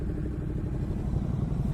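A stock-exhausted 2020 Ducati Supersport S motorcycle runs along as a steady, low rumbling engine note with a faint clatter, moderately quiet and brief.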